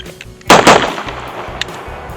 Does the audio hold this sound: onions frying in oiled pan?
no